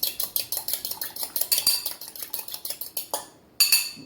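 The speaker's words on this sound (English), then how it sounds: "You beat a couple eggs together." A fork or whisk clinks rapidly against a bowl as a couple of eggs are beaten together in a home kitchen, a steady run of bright metallic taps that pauses briefly before starting again.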